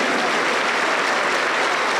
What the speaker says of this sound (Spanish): Fuerte las palmas para el Señor Jesús.